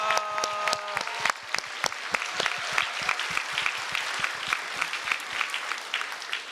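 A church congregation at a Thanksgiving service claps, with sharp individual claps early that thicken into steady group applause; a brief sung or called tone opens it, and the whole thing is fairly soft and distant.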